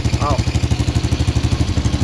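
A motorcycle idles with a leaking, holed exhaust pipe underneath, giving a steady low pulsing putter with an uneven chuff, heard close and alone.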